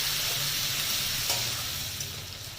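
Spice paste of ground dried chili, ginger and garlic hits already-fried onions on a lowered gas flame, giving a steady, close, dense sizzle and crackle that runs throughout with no talking.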